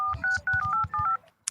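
A mobile phone keypad beeps out a quick string of about six dialing tones, short even pips in close succession, followed by a brief bright chime at the end.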